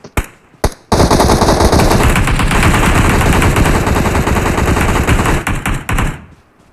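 Automatic gunfire rattles in a shooter video game scrim match: two quick shots, then a loud sustained burst lasting about five seconds that breaks into a few short volleys at the end.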